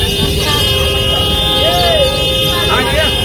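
Car horns toot in heavy, noisy street traffic, with short honks sounding over a constant loud road din while voices talk nearby.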